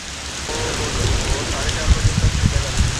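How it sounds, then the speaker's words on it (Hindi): Steady rain patters on surfaces nearby, a dense hissing wash with scattered heavier drops and thumps, heard continuously throughout. "देख बारिश दो मिनट की बारिश आई"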